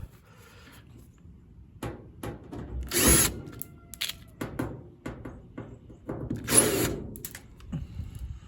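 A power drill backs out four Phillips head screws from the back panel of an LG top-load washer, giving two loud whirring bursts among softer clicks and handling noises, close by.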